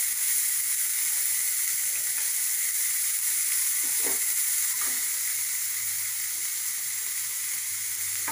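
A small chopped onion fries in a pot of hot oil, giving a steady, close sizzling hiss throughout, with a few faint clinks of stirring and no talking.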